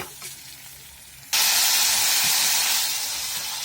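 Water poured into a hot pan of frying garam masala spices for a matar paneer curry bursts into a loud, steady hiss that starts abruptly and holds, fading slightly, after a quiet moment of soft sizzling.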